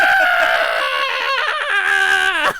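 A voice imitates a man screaming in pain, a loud, sustained, wavering shriek that holds for over two seconds before cutting off abruptly.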